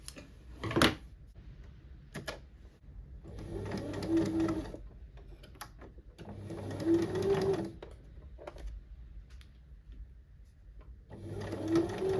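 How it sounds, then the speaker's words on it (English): Sewing machine stitching a tote bag seam, running in several short bursts of rapid mechanical whirring and ticking, close and fairly quiet, separated by pauses with small clicks and handling noises. "So I'll sew that seam and then do the next."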